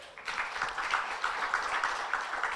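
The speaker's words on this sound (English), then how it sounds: "Can we clap for them?" Audience at an awards ceremony clapping, a full room of hands breaking out quickly and continuing steadily, with a faint rhythmic accent running through the applause.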